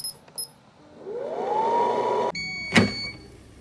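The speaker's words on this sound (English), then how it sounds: "air fry at 400 degrees for another 2 minutes" An air fryer set to 400 degrees, cooking honey-basted char siu pork, gives a few short beeps, then its fan whines upward in pitch, cuts off with a click and ends with a bright tone.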